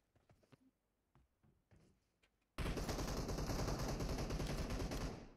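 Gunfire in PUBG Mobile: a few faint scattered shots and clicks, then a sudden loud sustained burst of rapid automatic fire lasting nearly three seconds before cutting off.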